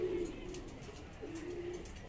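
A rooftop flying pigeon perched close by gives soft, low coos, two drawn-out calls separated by a pause, over quiet evening background noise.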